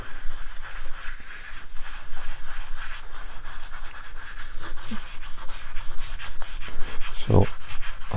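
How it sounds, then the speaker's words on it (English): A wooden desk being sanded by hand with 400 grit sandpaper makes steady back-and-forth rubbing strokes, close and fairly loud, with a brief thump near the end. "And then I use 400 grit sandpaper."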